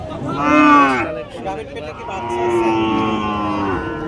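A dairy cow moos twice nearby at a cattle market, a loud drawn-out low call followed by a second longer one, with faint background noise.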